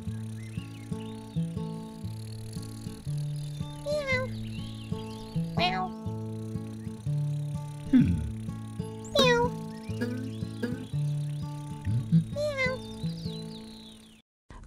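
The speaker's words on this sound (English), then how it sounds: "Grok got help from Sam to get the kitten down." Kitten meowing in a children's cartoon, several plaintive meows rising and falling over a bouncy musical backing with chirping accents, fairly clear but mixed under the music.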